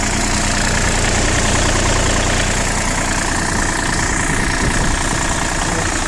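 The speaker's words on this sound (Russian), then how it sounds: "Двигатель работает очень и очень ровно." A loud, close diesel engine of a Kubota ZL1 205 tractor idles steadily, a continuous even rumble with a faint rhythmic knock, no voices.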